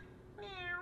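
A cartoon cat gives a single short meow in the animated film The Emperor's New Groove, quiet and close, rising after a brief pause with no talking.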